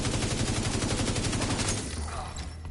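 Fast, continuous automatic turret fire in The Division 2 on a bank headquarters mission, loud and close with a steady rapid rhythm that thins out and fades near the end.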